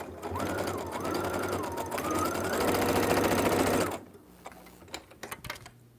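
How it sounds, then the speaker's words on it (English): A Brother CS6000i sewing machine stitches the lining of a zipper pouch, running with a steady whirring drone for about four seconds before stopping and leaving faint clicks and handling noises. "I am currently sewing on a Brother CS6000i."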